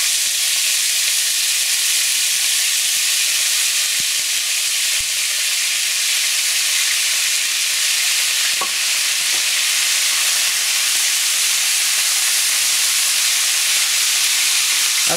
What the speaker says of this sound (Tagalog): So, dahan-dahan lang natin ilalagay yung marinated beef.